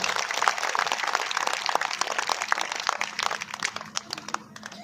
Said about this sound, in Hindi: एक ताली भाई हमारे डीएम साहब लक्ष्य सिंगल के लिए बजाओ